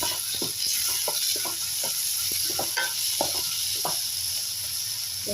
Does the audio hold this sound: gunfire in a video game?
no